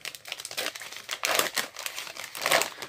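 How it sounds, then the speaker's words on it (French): A sterile gauze compress packet crackles and crinkles as it is handled and torn open, in several quiet, close bursts. "moi je me suis amusée à prendre une compresse gaz. Donc que je vais ouvrir avec vous"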